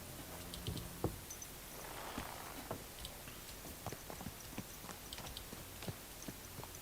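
Horse hooves walking in the video game Kingdom Come Deliverance 2: a steady sequence of soft clopping footfalls over quiet ambient outdoor background, close and unaccompanied by talk.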